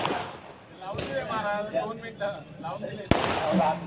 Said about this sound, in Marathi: आता फटाके फोडणाऱ्यांना विनंती